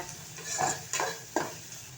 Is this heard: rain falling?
no